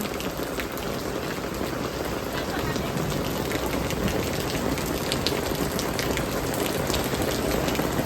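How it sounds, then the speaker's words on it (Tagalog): Dense, heavy rain pours down steadily, a loud continuous hiss of drops hitting surfaces nearby with no let-up. "Sobrang lakas-lakas ng ulan."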